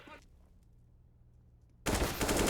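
A sudden burst of sustained automatic gunfire in a CS:GO match starts loudly after a quiet stretch and keeps going to the end.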